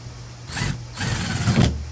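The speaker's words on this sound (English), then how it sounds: "I'm going to go ahead and get my screw gun on it, just tighten her up." A screw gun drives a screw into an outside garage door handle in two short buzzing bursts, close by and moderately loud, with no voices.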